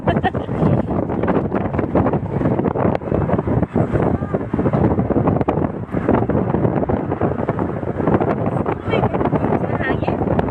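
Strong wind blowing steadily and roaring loudly into the microphone throughout, outdoors on a ride toward Times Square in Dubai, with voices partly buried beneath it.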